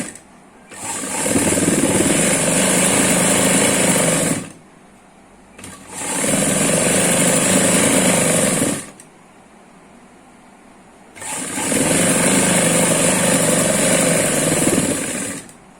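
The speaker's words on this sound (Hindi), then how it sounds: "तो हम यहाँ पे सिलाई लगाएंगे।" An electric sewing machine stitching palazzo pants, running in three long, loud, steady bursts of fast mechanical whirring separated by short pauses.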